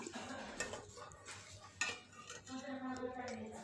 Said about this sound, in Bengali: দুধের মধ্যে গ্যাসের আঁচ লয়ে রেখে দিয়ে দেব নাড়তে থাকব